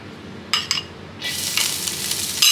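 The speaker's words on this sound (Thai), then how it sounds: "คั่วกระเทียมนี่ก่อนนะครับ" Garlic stir-fries in a hot pan for a Thai pork dish, with a couple of brief sizzling scrapes followed by a sustained loud sizzle, close by and without talk.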